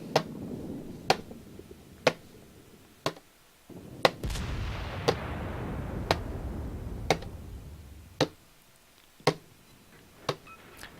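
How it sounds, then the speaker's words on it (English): Warship guns in World of Warships firing at the Svetlana: about a dozen sharp, evenly spaced cracks roughly once per second, over a low engine rumble and a swelling whoosh of sea noise. "Here's me shooting the Svetlana."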